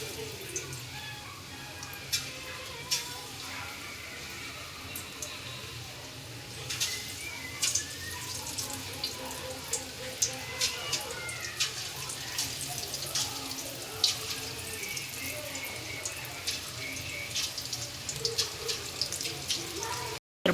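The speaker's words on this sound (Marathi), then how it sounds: "तर बघा, आपले भजे मस्त तेलात भाजत आहे." Mung dal bhaji fry in hot oil, a continuous close bubbling sizzle with crackling pops scattered through it.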